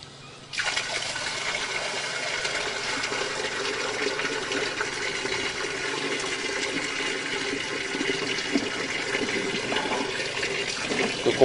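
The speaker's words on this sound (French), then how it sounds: "à cet endroit-ci, nous avons tiré la chasse du rez-de-chaussée qui est l'aboutissant de droite" A ground-floor toilet flush sends water rushing through a drain pipe, heard as a sudden onset followed by a steady, continuous hiss and gush of flowing water lasting many seconds, fairly loud and with no talk.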